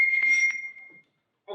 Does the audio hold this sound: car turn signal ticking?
no